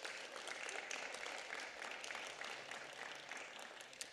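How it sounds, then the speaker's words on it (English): A round of applause at a county board of supervisors meeting, a dense steady patter of many hands clapping, moderately distant and sustained throughout. "I'll give you a round of applause."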